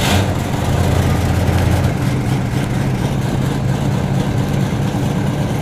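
A 1977 Lincoln Continental Town Car's carbureted 460 V8 idles after a cold start, a loud, steady low rumble that holds unchanged throughout with no speech.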